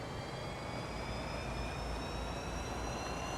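An electric bus in Bus Simulator 21 on PS5 cruises with a steady, low hum of road and rolling noise and faint high whining tones from the electric drive, continuous and even with no talking.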